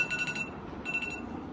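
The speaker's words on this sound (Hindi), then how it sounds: "अलार्म बज रहा है आपको" An alarm clock rings indoors in two quick bursts of faint, rapid beeping separated by a short pause, with a low room hum underneath.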